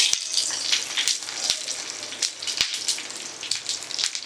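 Fish frying on one side in a pan, a close, steady crackling sizzle with scattered popping spatters and a few sharp ticks.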